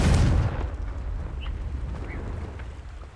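A Confringo spell blast in Hogwarts Legacy goes off as a loud, booming burst at the start, then decays into a rumbling tail that fades over a few seconds.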